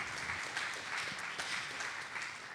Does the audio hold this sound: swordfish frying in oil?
no